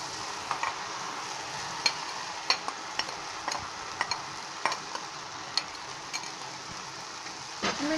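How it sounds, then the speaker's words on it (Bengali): Boiled lentils tipped into a spice paste frying in oil and stirred together, giving a steady close sizzle with scattered spoon scrapes and clinks and no talk. "এখন আমরা যে ডালটাকে সিদ্ধ করে রেখেছিলাম সেই ডালটা এর মধ্যে দিয়ে নেব।"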